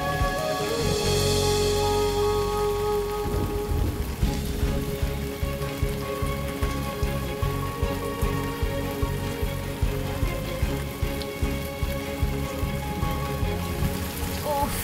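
Steady, heavy rain pours down and patters close by with a dense, continuous hiss and a regular dripping pulse throughout, with no voices.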